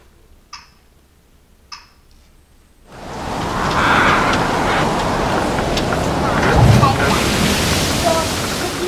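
A tsunami wave effect plays from a LEGO model program, a loud broad rushing surge that starts abruptly after two faint ticks and holds steady for several seconds.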